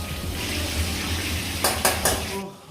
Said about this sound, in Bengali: মায়ের হয়ে গেছে এখন ইলিশ মাছ ভাজা